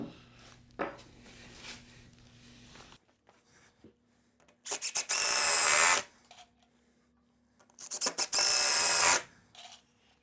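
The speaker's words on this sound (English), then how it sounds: "we'll flip just to put a couple more screws in" Power drill driving screws into wood while building a pre-cut Christmas tree display, two loud sustained whirring bursts of about a second and a half each, separated by quieter handling noise and a low background hum.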